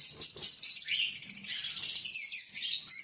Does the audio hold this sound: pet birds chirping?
yes